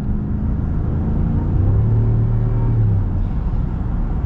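A 2024 Ram 1500 Big Horn pickup's Hemi V8 engine accelerating, a steady close, loud low rumble from the cabin with a rising drone in the middle, no talk.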